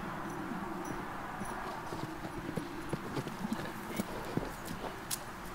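Horse hooves clip-clop in a steady cantering rhythm on the ground, moderately close under a constant outdoor background, with soft breaths and faint movement sounds.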